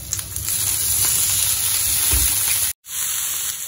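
Vinegar poured into vegetables frying in a hot pan, a loud, steady sizzle and hiss that runs on continuously, then cuts off abruptly before resuming more quietly, with no speech.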